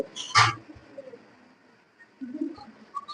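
A pair of Jabra pigeons, kept pigeons with deep blue eyes, give soft low coos in short bursts, quiet and close, with a brief rustle near the start and pauses between calls.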